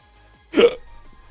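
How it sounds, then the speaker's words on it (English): One loud, sharp hiccup comes from a person close to the microphone. It is a single abrupt gulp with a short voiced catch, surrounded by near silence. "Suddenly my hiccups are in full force."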